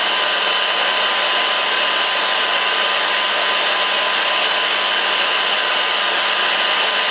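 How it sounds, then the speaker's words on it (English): A hair dryer runs steadily at close range, a constant broadband whoosh with a faint motor hum, unbroken and with no one speaking. "I love this hair dryer"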